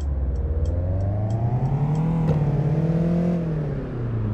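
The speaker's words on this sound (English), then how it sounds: "I press on the engine and then it just adds a more realistic, you know, engine sound than other cars" A 2021 Jeep Wrangler JLU Rubicon engine in the City Car Driving game, played on a Logitech G920 wheel, revs up and holds a rising, loud mid-pitched drone, then eases off slightly near the end.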